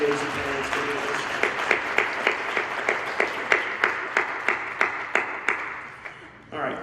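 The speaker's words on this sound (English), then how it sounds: "why don't you give your parents a round of applause for working you through this" Families and audience at a high school wind ensemble winter concert applaud in a room, then settle into a slow, rhythmic unison clap with evenly spaced beats that fade out near the end; faint voices mix in underneath.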